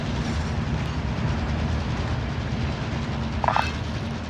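A train in a shooter video game rumbles and clatters steadily close by, with a brief sharper metallic burst near the end and no talk.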